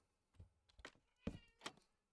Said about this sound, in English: I hear you, kitten.